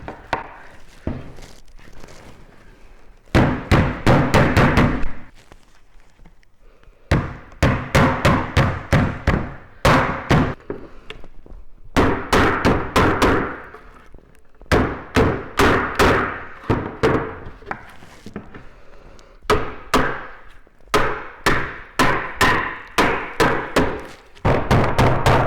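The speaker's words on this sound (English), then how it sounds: "So just use your hammer handle," Bursts of rapid knocking taps from a hammer handle knocking parts into VW T5/T6 camper furniture, in repeated runs with short pauses between them, close and fairly loud.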